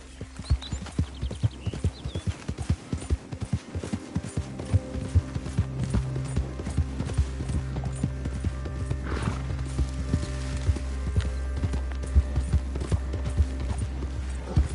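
Hooves clip-clop steadily as a horse is ridden in a PS4 video game, a brisk regular rhythm running throughout with an occasional whinny and faint creaking of tack, with no talk over it.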